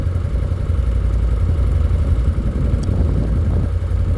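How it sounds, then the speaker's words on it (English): A CFMOTO CFORCE 800 or 1000 Touring ATV engine-braking downhill with downhill assist control engaged: a steady, close mid-pitched engine drone with light mechanical clatter runs without a break and carries no speech. "So basically that activates a heavier form of engine braking"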